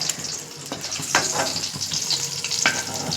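Chopped medium onion frying in oil in a kadai, a steady close sizzle with brief scraping stirs of a spatula at intervals, no voices.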